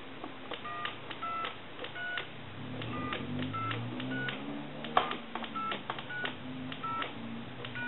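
Dual-tone dialing beeps from a Thomas wooden wall telephone under repair, a steady series of short evenly spaced tones keyed one after another over a low background hum.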